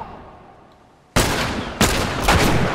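Loud, dense gunfire from The Last of Us Remastered video game bursts in abruptly after a quiet stretch, with a second heavy volley following, sustained and close with no voices over it.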